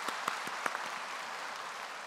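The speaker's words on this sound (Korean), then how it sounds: "우리 서로를 위해서 다시 한번 축복의 박수를 보내셨으면 좋겠습니다" A church congregation claps together in a dense, steady patter of applause, heard from a short distance and holding even throughout.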